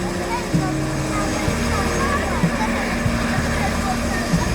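A helicopter flies over a water park, its steady rotor drone and engine rumble holding through the whole stretch beneath background noise, with people talking faintly.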